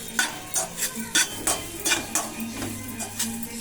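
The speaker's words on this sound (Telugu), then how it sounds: "కారం వేసుకొని ఇలా కలుపుకోండి" Spoon scraping and stirring carrot fry with chili powder in a pan, a series of clicking, scraping strokes in an uneven rhythm, close and moderately loud, with a faint sizzle underneath.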